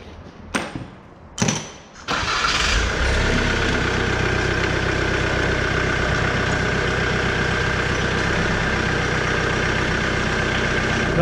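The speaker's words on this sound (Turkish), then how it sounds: "Hadi ilk marş." A Jaguar X-Type 2.0d diesel engine cranks in short bursts, then catches and settles into a steady, loud idle with a low, even rumble that continues to the end.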